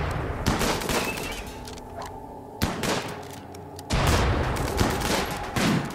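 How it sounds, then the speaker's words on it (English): Bursts of video game gunfire from RimWorld as a squad fires at an ancient ship part, with dense crackling volleys, sharp separate shots near 2.6 and 4 seconds, and continuous rattling throughout. "Now fire at the ancient ship part."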